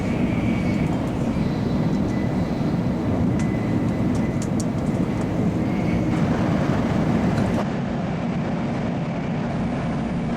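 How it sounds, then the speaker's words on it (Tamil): Steady, loud rumble of a Japanese Shinkansen bullet train running at speed, heard from inside a carriage, continuous and unbroken with no talking. "சரி, வண்டி கிளம்பிடுச்சு."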